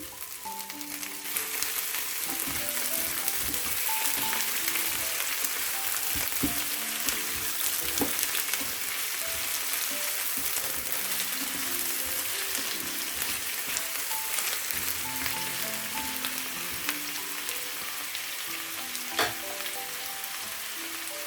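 Frozen spinach sizzles in a hot pan with oil, onions and garlic, a steady dense crackling hiss like rain on a surface, with occasional stirring knocks, close and continuous with no voices.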